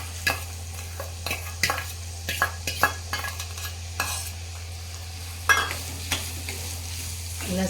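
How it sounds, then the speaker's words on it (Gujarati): Garlic fries over low heat in hot oil in a heavy kadai, a steady sizzle broken by repeated scraping and stirring clatters, close and fairly quiet, with no voices. "લસણને આપણે આ રીતના ધીમા તાપે શેકવાનું છે"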